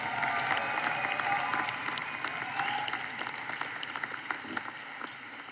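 Commencement audience at a Mines undergraduate graduation applauding a university team, steady broadband clapping with scattered sharper claps and light cheering, fading slightly toward the end.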